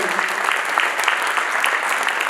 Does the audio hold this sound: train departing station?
no